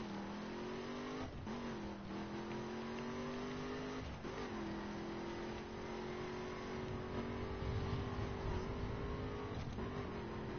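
A police car engine drones and revs in the racing video game The Crew, with a steady tone that dips and rises with gear shifts and throttle blips over game ambience.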